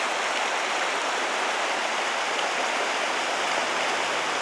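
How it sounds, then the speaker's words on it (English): Mountain creek water flowing by, a steady, loud, broad rushing wash with no pauses, close by and unbroken by voices. "Sit here and listen to the water"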